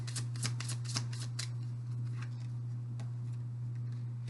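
Tarot cards being flipped over and handled, a quick run of crisp snapping flicks in the first second and a half, then a few softer scattered taps over a steady low hum, with no talking.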